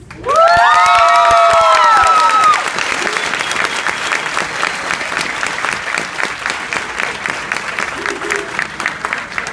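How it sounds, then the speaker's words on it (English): Cheering and screaming erupt from a crowd at a high school graduation as the valedictorian is announced, then settle into sustained loud applause with whoops and shouts running throughout. "Give him a big round of applause, guys."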